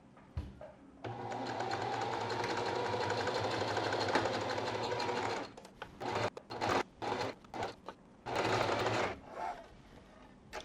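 A sewing machine stitches bodice pieces of a babydoll dress along the shoulder seams, running in one long steady whirring burst, then in short stop-start spurts with gentle clicks and rustling of fabric between.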